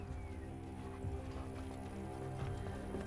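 A horse gallops in Assassin's Creed Origins with a quick, steady clip-clop of hooves over a constant low background drone, moderately close and unbroken throughout.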